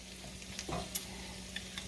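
Meatloaf patties sizzle in a skillet, a soft, steady frying hiss with a couple of faint pops and clicks over it.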